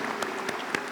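A graduation ceremony audience claps for the lecturers, a short burst of crowd applause with a few louder individual claps standing out.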